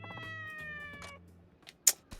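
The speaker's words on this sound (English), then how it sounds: "I really did spoil this cat." A cat meows in the video game Like a Dragon: Ishin!, giving a drawn-out, tonal meow near the start, then faint shuffling and a couple of short clicks in a quiet scene.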